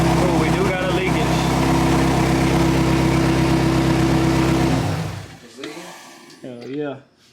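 A Corvette engine idles steadily after a water pump replacement, running loud and even for about five seconds before cutting off, followed by brief voices nearby.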